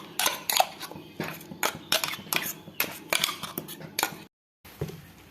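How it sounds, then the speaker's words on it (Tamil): Thick ground white pumpkin paste is scraped and tapped from a grinder jar into a bowl, giving a run of sharp metallic clinks and scrapes in quick irregular bursts, close and fairly loud, with a brief silent gap near the end. "இப்போ நம்ம ஒரு பவுலில் மாற்றிக்கலாம்"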